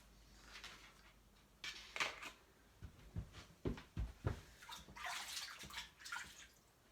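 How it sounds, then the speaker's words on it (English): Water runs and splashes as hands are washed at a kitchen sink while a beef or vegetable stew with dumplings is being cooked, faint and uneven with scattered splashes and knocks. "I think you realise how many times you wash your hands"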